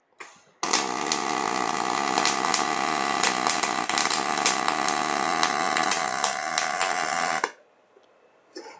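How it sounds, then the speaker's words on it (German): Electric arc welding in a workshop during a welding lesson: a loud, steady crackling buzz starts abruptly, runs for about seven seconds without a break, then cuts off to quiet. "Und ich versuche ein bisschen länger zu schweißen."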